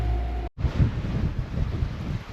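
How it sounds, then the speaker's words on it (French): Open-sea wind buffets a sailboat offshore in a steady, close rumble of gusts against the microphone, briefly cutting out for a moment before resuming. "On a touché un peu de vent, on est au large là."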